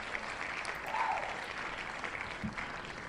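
Faint, scattered applause in the game Final Fantasy XIV: A Realm Reborn, from a small group, claps steadily for a few seconds, fairly distant and soft.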